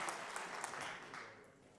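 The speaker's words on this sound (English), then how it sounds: "So let's give him a round of applause." An audience at a State of the Schools address claps in a short, fairly faint burst of applause that fades slightly toward the end.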